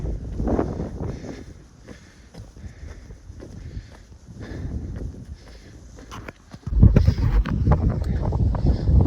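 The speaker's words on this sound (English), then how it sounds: "it is windy today." Gusty wind buffets the microphone with low rumbling roars, easing in the middle and then surging louder toward the end.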